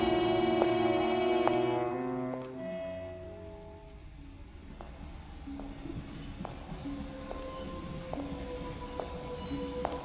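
A subway train runs through a station in a radio drama, opening with sustained tonal swells that fade into a low rumble scattered with sharp metallic clicks and faint squeals.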